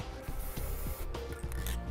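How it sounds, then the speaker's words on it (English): Spray paint hissing onto the metal frame of a 2017 vehicle while marking where to drill for a trailer hitch, short bursty sprays mixed with handling clatter, fairly close. "I'm just going to take a little bit of spray paint"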